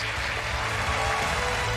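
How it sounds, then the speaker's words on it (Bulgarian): A television singing-contest audience claps once more after a contestant's farewell. The applause is short and fairly loud, a dense, even patter with a low hum underneath. "Аплодисменти още веднъж!"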